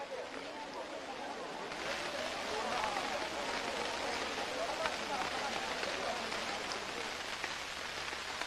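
Heavy monsoon rain pours down steadily, a dense hiss of drops hitting surfaces that swells slightly after the first couple of seconds and then holds even and continuous.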